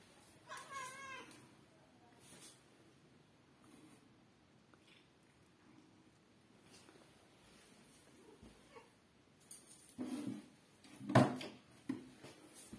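A pet cat gives a few short meows around a quiet room, with one louder, sharper cry near the end among light rustling and handling noises; no talking is heard.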